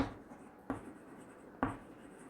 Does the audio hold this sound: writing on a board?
yes